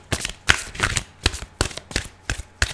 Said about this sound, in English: And if you don't like the shuffle